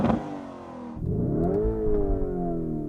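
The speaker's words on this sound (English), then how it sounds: "I'm going to rev up this turbocharged V8 and see what it sounds like." Turbocharged V8 of a Lamborghini Urus revs sharply, a quick climb then a sustained rising tone that holds and swells, close and loud with no one speaking.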